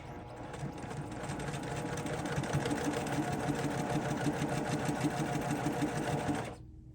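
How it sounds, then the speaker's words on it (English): A sewing machine stitches quilt pieces along a quarter-inch seam, a steady rapid whirring hum that runs nearly seven seconds before slowing to a stop. "we're gonna pretty much sew right through at 1/4 inch"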